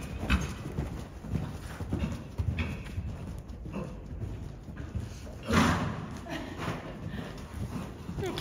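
Ridden horse's hooves clip-clopping in a steady walking rhythm with soft thuds, heard at moderate distance under background noise and intermittent talking.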